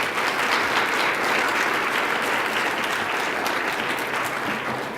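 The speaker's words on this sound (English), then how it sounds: "Let's give them a round of applause." Sustained applause from a conference audience in St. Louis fills the room, steady and loud throughout with no voices over it.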